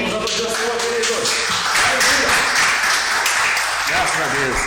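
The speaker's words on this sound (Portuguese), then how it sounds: "Vamos aplaudir o Senhor, queridos." A church congregation applauding: dense, steady clapping from many hands that runs throughout, with a voice speaking over it.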